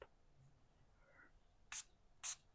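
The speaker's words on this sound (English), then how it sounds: "Spray a little alcohol in here" Two quick hissing sprays of alcohol from a small spray bottle, short and crisp, separated by a brief pause in an otherwise quiet room.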